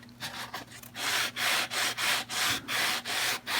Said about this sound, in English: this is a real fine grit sandpaper block